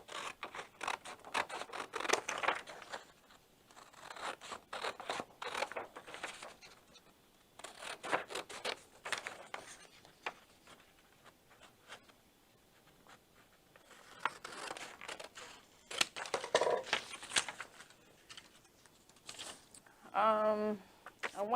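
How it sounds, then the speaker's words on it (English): Scissors cut out a paper pattern up close in repeated bursts of crisp snipping and rustling, pausing between passes, with a brief zipper-like rasp at the end and no speech. "So I'm just going to cut the pattern out."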